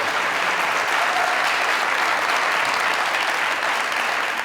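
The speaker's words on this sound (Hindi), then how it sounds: "तालियां है इस सवाल पे यार।" A dense audience keeps up continuous applause at a comedy stage show. It is loud and even from start to finish, with no pauses and no talking over it.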